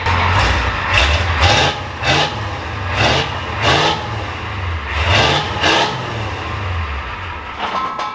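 An IDI diesel engine with a custom NASCAR-style exhaust revs repeatedly in short bursts to about 2,000 rpm, each rise roaring through the throaty exhaust before dropping back to idle, close and loud.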